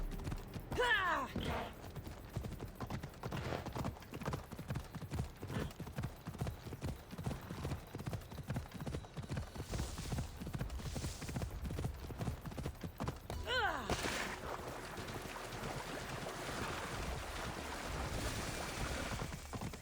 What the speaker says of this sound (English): we are riding the horse